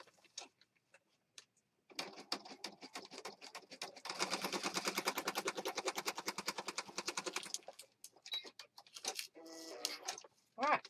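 A sewing machine stitches through a paper journal page in quick rhythmic bursts, first in short runs and then in a sustained close, steady clatter before stopping and starting again.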